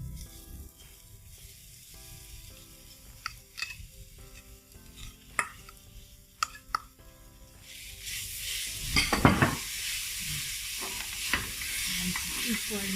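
Coconut candy mixture is stirred in a hot pan, with a steady sizzle and scraping strokes that grow louder and denser toward the end.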